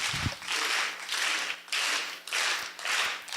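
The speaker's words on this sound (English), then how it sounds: "Slow clap me." Audience slow clap at an HR conference, several evenly spaced swells of group clapping about every half-second to second, building and fading in waves with a thump at the start.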